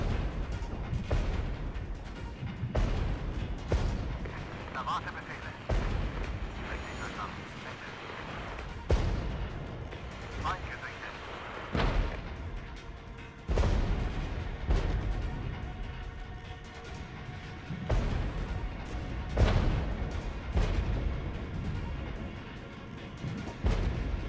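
Artillery in the Regiments war game fires in repeated heavy booms every few seconds, each followed by a rumbling decay, loud and close against a continuous battlefield roar.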